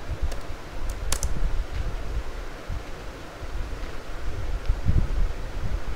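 Someone types on a computer keyboard close by, with quick uneven bursts of key clicks over a soft background rush and no voices.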